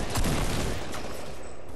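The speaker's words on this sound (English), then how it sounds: "All they hear is loud ass shotgun shells" Loud, close shotgun blasts in a video game firefight, a rapid burst of overlapping shots that blur into one dense roar for under two seconds, with no speech.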